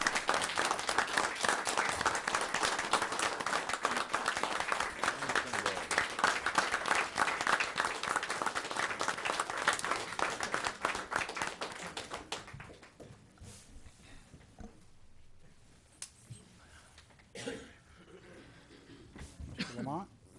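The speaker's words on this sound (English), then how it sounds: "I think we owe him a round of applause" Applause for a former council member leaving the dais at a city council oath-of-office ceremony, a dense sustained round of clapping that fills the room for about twelve seconds, then fades to quiet room murmur with scattered faint sounds.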